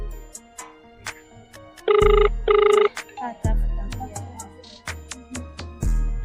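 A phone rings through an unanswered call, two loud, steady electronic bursts close together in the middle, with talk and clicks around them.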